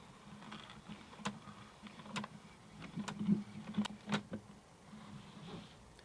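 The crank on a film camera is wound to advance the roll, giving a series of small, sharp ratcheting clicks at an uneven pace against a quiet, faint background hum.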